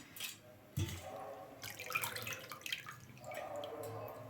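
Water drips and trickles through a strainer as soaked ragi vermicelli is drained, a splashy pour followed by steady draining, close by and fairly quiet.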